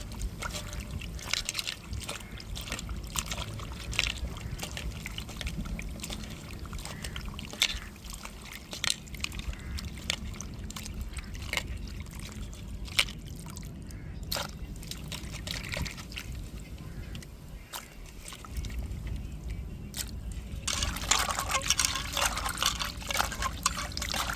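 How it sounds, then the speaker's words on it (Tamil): Dried rock fish rinsed in water by hand, with repeated close sloshing, trickling and dripping splashes in an uneven rhythm that grows louder near the end. "நல்லா தண்ணியில் அலசி எடுத்துக்கிடுவோம்."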